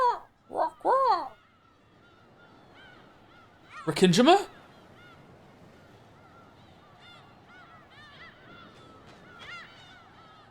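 Video game seagull sound effect: squawking cries burst out at the start and again midway, loud and close, with fainter bird calls scattered behind and a brief spoken word.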